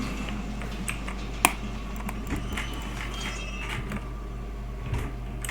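A drawn-out creaking and clunking door in the horror game Outlast, with faint mechanical squeaks and one sharper knock over a low steady hum, quiet and close.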